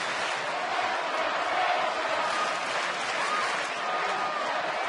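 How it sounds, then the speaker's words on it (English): A large baseball crowd at Turner Field on a Friday night, a steady roar of cheering and chanting filling the stands with no pauses. "The "Let's go Jason, let's go Hayward" chant goes up here at Turner Field."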